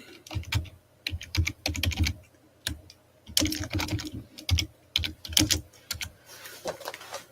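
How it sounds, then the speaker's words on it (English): Two-handed typing on a computer keyboard, heard as rapid close clusters of key clicks in uneven bursts separated by short pauses. "Put it down so I can type with both hands."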